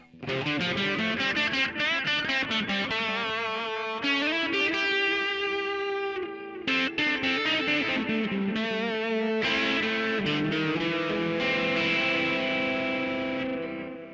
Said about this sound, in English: Pressing it again, I'll get delay.